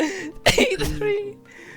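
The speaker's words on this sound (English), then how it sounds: "I had to cough a bit." A short burst of coughing and throat clearing from a man reading aloud, close to the microphone, with his voice running before and after it.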